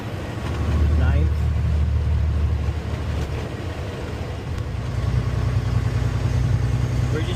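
A Paystar 5600 TS truck in the SnowRunner game rumbles steadily in high gear, a loud, continuous low engine drone that swells slightly toward the end, with some speech-like sound over it.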